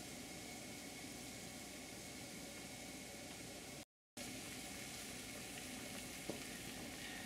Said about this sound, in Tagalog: Lulutuin lang natin yung sibuyas at kamatis at papalambutin natin to ng todo-todo.